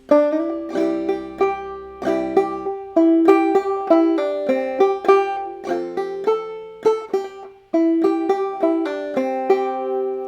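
A clawhammer banjo plays a steady run of plucked notes from the fiddle tune Billy in the Lowground, bright and close, with twangy attacks and quick decays and a short pause near the end. No voice is heard.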